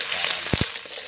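Snails (suso) tipped into a cooking pot for coconut-milk ginataan with taro: a steady sizzle runs throughout, broken by two quick, low thuds close together midway. No one speaks.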